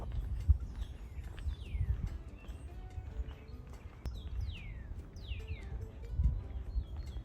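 Birds chirp and tweet along an outdoor walking trail: short, quick, repeated calls at moderate distance, with soft low rustling and footstep-like thuds underneath.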